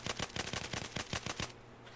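Light machine gun fire in Battlefield 4, a rapid run of about a dozen evenly spaced shots in quick tap-fire bursts, fairly quiet, ending abruptly into near silence.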